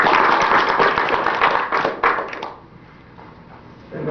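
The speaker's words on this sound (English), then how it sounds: "maybe give her a round of applause." A burst of clapping from a group at a council meeting fades out after a couple of seconds, followed by quiet room noise.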